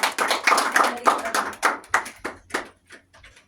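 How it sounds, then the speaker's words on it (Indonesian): A classroom of students claps for a group at the front, starting as a quick burst of close hand claps that thins to a few scattered claps and fades out. "beri tepuk tangan untuk kelompok depan"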